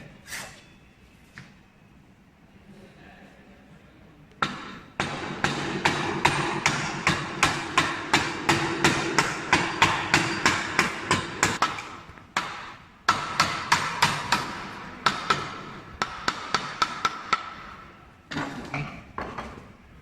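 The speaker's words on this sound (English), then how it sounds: "Same, you are chipping layer by layer." A hammer drives a chisel to chip a wooden workpiece layer by layer for a dovetail halving joint, giving a long, fairly regular run of sharp, close knocks with brief pauses between bursts and no speech.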